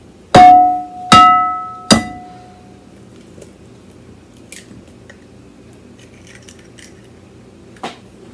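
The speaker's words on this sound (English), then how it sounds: "If you don't know how to crack that egg," Two large eggs cracked for cupcake batter give three sharp, loud knocks close together, followed by faint scattered clicks and small kitchen noises in a quiet room.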